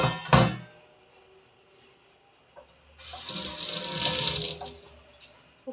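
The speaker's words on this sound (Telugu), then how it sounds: "చేపలు అయితే శుభ్రంగా కడుక్కోవాలి ఒక నాలుగైదు సార్లు కడుక్కోవాలి" Fresh fish are washed in water under a kitchen tap: a brief splash at the start, a quiet pause, then a strong gushing stream with sloshing handling before it stops.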